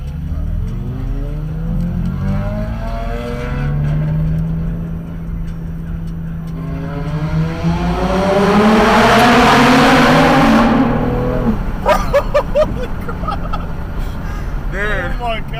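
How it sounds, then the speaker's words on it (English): A loud Porsche GT4 sports car accelerates on a highway and roars into a tunnel, its engine note rising and swelling to a dense peak before fading, heard from a nearby car under excited talk. "that thing sounds so good"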